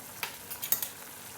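A tomato mixture with harissa fries quietly in a pan, a soft low crackle with a few brief stirring scrapes and ticks near the middle.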